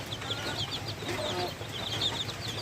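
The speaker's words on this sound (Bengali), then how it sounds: "আমার দেশি মুরগির বাচ্চা কত সুন্দর" Native chicks about ten to twelve days old on a small poultry farm peep in quick, thin, high chirps that overlap and repeat close by, with no one speaking.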